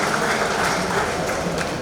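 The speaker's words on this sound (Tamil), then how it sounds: "பசி வந்த போதே இவ்வளவு கைதட்டுகிறீர்களே" Steady applause from a large audience in a packed hall during a Tamil poet's speech, a continuous dense patter of clapping with no break over its short span.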